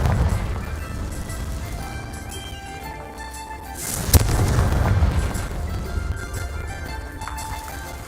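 Confringo blasting spell from Hogwarts Legacy bursting once near the middle, a sharp crack swelling into a broad rumbling blast over a busy game music and ambience bed.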